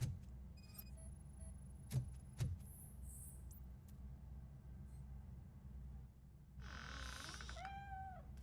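A cat in the Robocop: Rogue City video game gives a short rising-and-falling meow near the end, over a low steady game-ambience hum, after a couple of brief thumps earlier.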